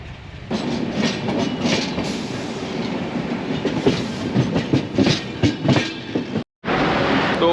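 A Rajdhani Express passenger train runs steadily along the tracks with loud continuous rumble and rhythmic clickety-clack of wagon wheels, with a brief gap near the end.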